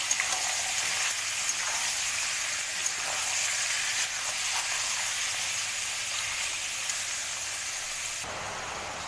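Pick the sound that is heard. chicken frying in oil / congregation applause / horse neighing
chicken frying in oil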